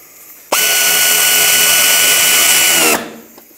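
A power drill drives a 7mm screw into the front bumper cover of a 2006-2011 Chevy HHR, giving one loud, steady high whine that lasts about two and a half seconds and then stops abruptly.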